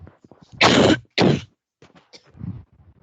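A person coughs twice in quick, harsh bursts close to the microphone, followed by faint murmured talk and small breathy sounds.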